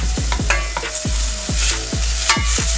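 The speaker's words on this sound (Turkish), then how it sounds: "Biberlerimiz iyice kavrulana kadar karıştıralım arkadaşlar." Chopped peppers being stirred and roasted in a pan for menemen, with a steady frying sizzle and repeated sharp scrapes and knocks of the utensil against the pan. No voices.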